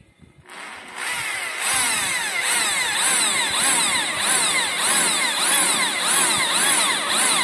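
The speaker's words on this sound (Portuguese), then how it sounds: "Tá no martelete." A hammer drill bores a hole into a trailer, starting abruptly and then running continuously with a loud, rapid rhythmic hammering rattle close by and no talk.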